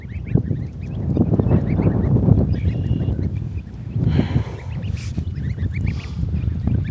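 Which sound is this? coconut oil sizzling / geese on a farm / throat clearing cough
geese on a farm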